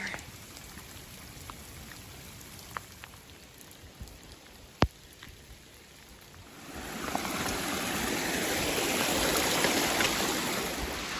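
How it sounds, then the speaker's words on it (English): Heavy rain pours on a lake trail, with water streaming across the path. Scattered drips and one sharp tap come first, then the downpour swells into a loud, steady hiss for the second half. "there's literally just water pouring down everywhere"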